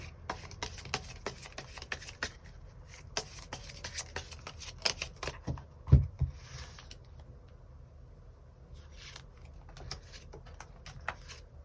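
Tarot cards being shuffled and drawn for a love reading, a close, continuous patter of riffling and sliding cards with soft flicks, taps and rubbing, one firmer tap in the middle, and no voices.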